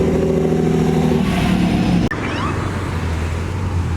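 A McLaren 765LT sports car engine revs loudly and close, then cuts abruptly and drops to a lower rumble of passing traffic.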